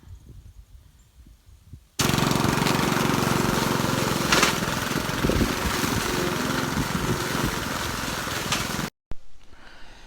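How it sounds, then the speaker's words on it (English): A lawn mower fitted with a bagger collects fall leaves, starting suddenly after a quiet moment and roaring loud and steady for about seven seconds before cutting off abruptly. "So method number 1 is using a bagger on your mower."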